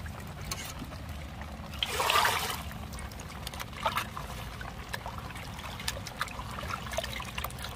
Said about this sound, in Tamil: இத இப்ப தண்ணி வச்சு நம்ம சுத்தமா கழுவ போறோம்